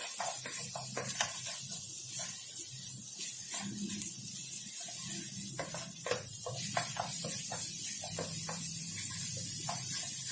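Grated ginger and garlic sizzle steadily in hot olive oil, a continuous crackling hiss with scattered pops and faint stirring scrapes throughout.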